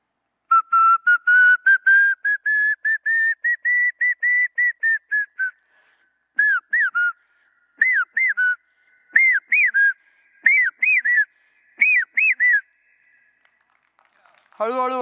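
A man whistles an imitation of the common hawk-cuckoo call: a long run of rising, rapidly repeated notes, then several separate two-note phrases with pauses between them. The whistling is close and clear, and a voice starts at the very end.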